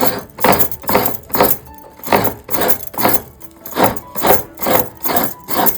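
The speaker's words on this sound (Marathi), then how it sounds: "आता इकडे ना सर्व खोबरं आपण व्यवस्थित किसून घेतोय." Fresh coconut being finely grated by hand on a metal grater, a steady rhythm of about eleven loud rasping strokes at close range, with no talk.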